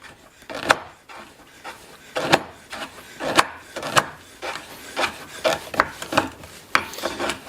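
A knife shaves a block of chocolate into curls in regular, rasping scrapes, about ten strokes at a steady rhythm, close and crisp with no talking.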